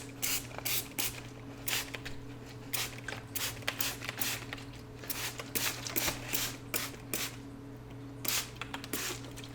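A handheld spray bottle mists the exposed roots of a hoya plant during repotting. It gives a quick series of close, sharp hissing bursts in an uneven rhythm, alone without talk.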